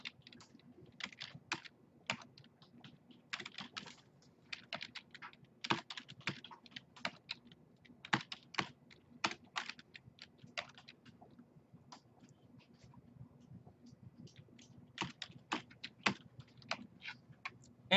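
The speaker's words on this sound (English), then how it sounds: "just a little bit typing practice." Typing on a computer keyboard while entering data into an Excel spreadsheet, irregular bursts of crisp key clicks with short pauses, close and moderately quiet, no talk.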